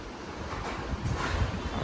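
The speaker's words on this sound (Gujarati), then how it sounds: "બહારનો વ્યૂ જુઓ, કેટલો પવન છે." Steady wind rushes and buffets the microphone, a constant breathy roar with no voices.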